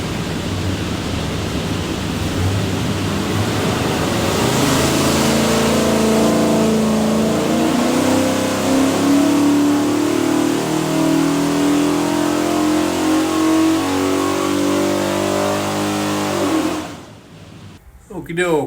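A 408 stroker V8 in a 1966 Ford Mustang revs hard on a dynamometer at Prestige, a loud, sustained near roar that climbs and holds for about seventeen seconds before cutting off abruptly.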